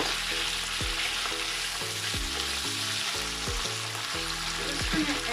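Thyme, mint, curry leaves, chili, green pepper and onion frying in oil while being mixed, a steady close sizzle under rhythmic spoon strokes against the pan, no voices.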